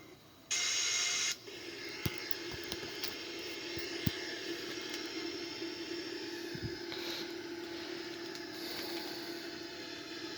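Inside the cockpit of a Boeing 787 in flight, a steady low engine and airflow drone fills the space, with a brief loud hiss near the start and scattered faint clicks and ticks over it.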